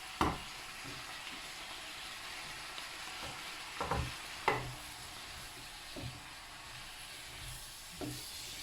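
Courgettes cooking in a pan give a faint, steady sizzle and hiss, with occasional soft clinks and scrapes from a utensil, quiet and close with no talk.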